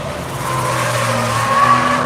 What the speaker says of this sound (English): Hustling that big, fat, heavy BMW through turn 1 quite well.